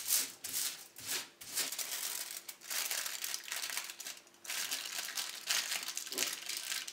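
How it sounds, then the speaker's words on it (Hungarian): Aluminium foil crinkles and crumples as it is pressed over a hookah bowl packed with Al Fakher mint tobacco, in close, quiet, irregular bursts of rustling with no talking. "Túlzás is ez a fólia mennyiség."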